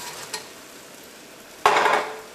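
Fried eggs are dropped into hot Manchurian sauce, setting off a sudden loud sizzle that follows a faint utensil tap, close up and fading slightly as it continues.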